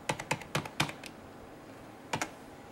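Keys clack on a non-original computer keyboard hooked up to an iMac G3, a quick burst of several close, crisp keystrokes followed by a pause and then a final pair of taps.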